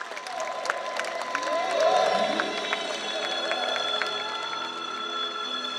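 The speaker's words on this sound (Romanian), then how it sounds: "dați-le aplauze" Audience at a school cultural-artistic event for education workers' professional day applauds, a sustained wash of clapping and crowd noise with a slight swell in the middle, steady and moderately loud.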